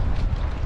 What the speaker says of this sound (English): That wind's not kind of let up at all. If anything, it's got a wee bit stronger.